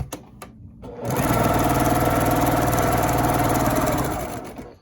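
A Brother PQ 1500 SL sewing machine stitching quilt pieces together, with a few quiet clicks and then a loud, steady, fast mechanical whir close by that runs for several seconds before slowing to a stop.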